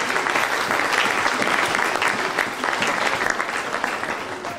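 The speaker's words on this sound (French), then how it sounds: "Vous pouvez applaudir les interventions." A seated audience at a girls' empowerment programme event applauds after speeches, producing thick, steady, fairly close clapping that fills the whole stretch without talk.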